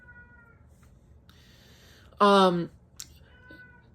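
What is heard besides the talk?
cat meowing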